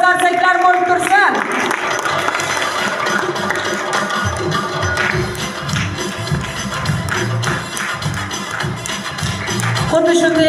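An audience applauds a young performer receiving a second-degree diploma at a youth creative competition, steady clapping from a crowd mixed with music and a voice.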